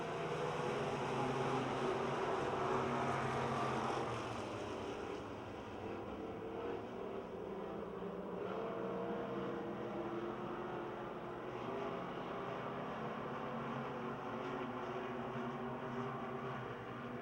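Race cars come through turns 3 and 4 on the final lap at Pennsylvania Motor Speedway in Pittsburgh, a faint, distant, continuous engine roar that eases slightly after a few seconds.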